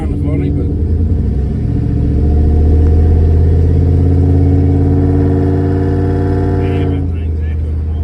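An LS-swapped Studebaker revs hard and loud up close, a deep steady engine roar that holds for several seconds and echoes off surrounding buildings before dropping back.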